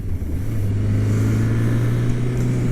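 A Kawasaki Concours ZG1000 sport-touring motorcycle with a 4-cylinder 1000cc engine drones at a steady, loud pitch throughout, with constant road and wind rush around it.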